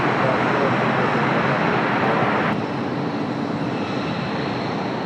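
Boeing 757-300 airliner taking off from a runway, a loud, continuous broadband engine roar that stays steady and then eases slightly as the jet moves away.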